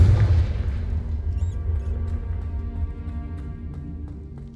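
A Confringo fire spell detonates in Hogwarts Legacy, starting with a loud, deep boom that rolls into a long low rumble and fades gradually over several seconds, with faint clinks and debris sounds scattered on top.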